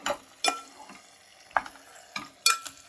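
Soft sizzling of chicken frying in oil with masala, with intermittent scraping and stirring clatters in a pan, several bursts spaced irregularly, close by.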